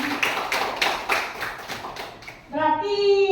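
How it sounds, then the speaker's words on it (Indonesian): A class clapping hands in a school classroom, several rhythmic claps for about two seconds, followed by voices talking. "Kasih tepuk tangan sama Bu Dharma."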